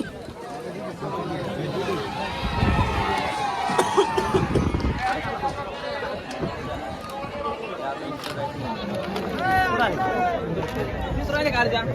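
A large, dense crowd gathered at a bullock cart race, with a constant babble of many voices nearby, some shouts, and a person talking over the hubbub.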